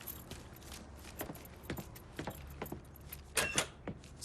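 Truck keys jangle in a Mafia 3 heist mission scene, with faint metallic clinks and rattles scattered over a soft, low background hum.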